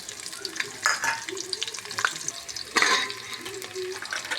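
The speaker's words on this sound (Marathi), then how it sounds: "तेल गरम झालं आपण आता त्याच्यात सगळे खडे मसाले टाकू त्याच्यात परत कांदा टाकू" Whole spices and onion hit hot oil for a vegetable pulao, making a soft, continuous sizzle broken by a few louder bursts of stirring and scraping in the pan.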